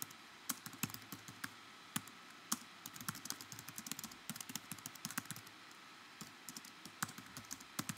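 Someone types a comment on a computer keyboard, a steady run of close, crisp key clicks in irregular bursts with brief pauses, alone in a quiet room.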